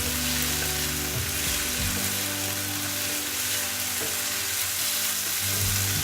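Food stirred in a frying pan while chili-spiced Bengali poha base cooks, a steady close sizzle with soft scraping movements running throughout, no voices.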